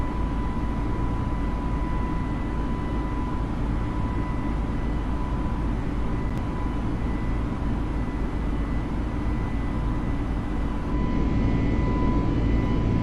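Steady, loud engine drone of an A320 airliner in cruise flight in Microsoft Flight Simulator, with a constant broadband roar and a faint tone held throughout, no talking.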